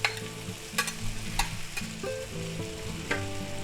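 Pork loin strips and vegetables stir-fry in a hot pan for a lo mein, with a steady close sizzle broken by repeated scraping and clanking stirs, and no voices.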